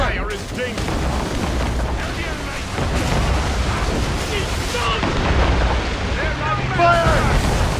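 Naval mortar and cannon fire during a ship battle in Assassin's Creed Rogue, with repeated dull booms rolling over a constant sea-and-wind rumble while a voice speaks throughout.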